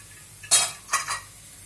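A lid comes off a cooking pot of pumpkin sabzi with a couple of quick, close metallic clinks and scrapes, followed by quiet.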